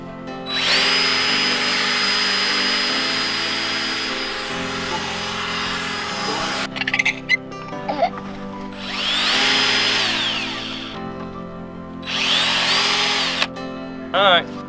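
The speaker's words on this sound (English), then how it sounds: "I'm gonna need you to hand me my drill." A power drill whirs in loud, sustained bursts during a yurt renovation with plywood, revving up and winding down several times with short gaps between runs, close to the microphone.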